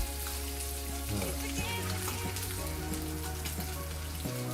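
A burger patty frying in a pan gives off a steady, dense crackling sizzle that runs the whole time, over a low humming tonal background, with no talk.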